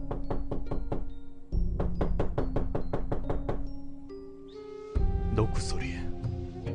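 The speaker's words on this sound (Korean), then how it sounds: "노크 소리." A series of sharp, evenly spaced knocks on an apartment front door, close and loud in several rapid bursts, with a pause partway through and a brief shift in tone near the end.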